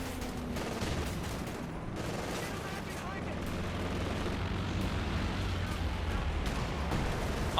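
Gunfire from a strafing run in the Company of Heroes 2 war strategy game, a continuous dense roar of rapid shots and rumbling blasts lasting throughout, with no clear breaks.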